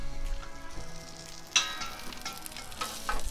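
Hamburger patties sit over the fire on a Weber kettle grill fitted with a Slow 'N Sear, giving a quiet steady sizzle with a sharp metallic clink partway through and soft faint clatter afterward.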